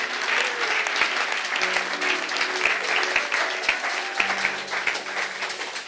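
A church congregation applauds for Jesus at a Sunday service, with dense continuous clapping filling the room throughout and a few voices and a sustained tone underneath.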